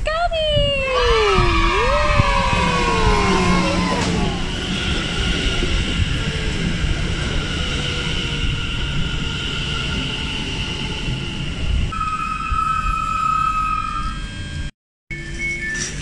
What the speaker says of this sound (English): Look, the train is coming!